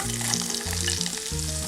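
Shallots sauté with green chillies and curry leaves in hot coconut oil in a pan, a close, continuous crackling sizzle with faint stirring, no voices.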